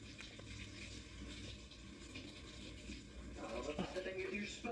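Tap water running steadily while a lobster is rinsed under it, a continuous splashing rush that thickens with louder spatters toward the end, with a voice faintly present.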